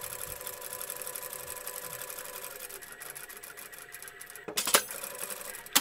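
A sewing machine stitches elastic smocking on a doll's dress, its rapid steady whir running close and even before stopping, followed by a few brief clattering handling sounds near the end.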